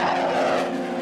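An F-22 fighter jet flies by with a loud, steady engine roar that holds throughout the short stretch, with no voices.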